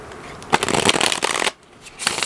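Tarot and oracle cards being shuffled: a close, loud riffle of cards that lasts about a second, then drops away into a quieter rustle.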